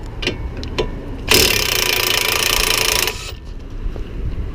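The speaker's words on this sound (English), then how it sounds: "I got an impact gun. So go ahead and back these two nuts off for the strut." An impact gun backs off the strut nuts on a 2004-2007 Chevy Malibu front strut with an 18 mm socket, a loud continuous rattling hammer burst of about two seconds between quieter workshop clatter.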